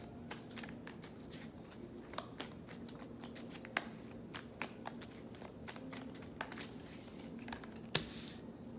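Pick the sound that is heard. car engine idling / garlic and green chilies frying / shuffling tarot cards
shuffling tarot cards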